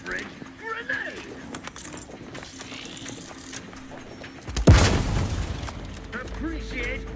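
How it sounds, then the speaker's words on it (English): A grenade explosion in the video game The Outer Worlds 2, a sudden loud broadband boom with a crackling tail that stands out over ongoing game sounds and voices. "Grenade!"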